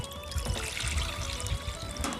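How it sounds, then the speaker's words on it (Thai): Soup broth pours steadily into a hot Thai pork-grill pan, a continuous close liquid splash and trickle running throughout with no talk. "นี่นะคะเราก็จะเทน้ำซุปลงเลย"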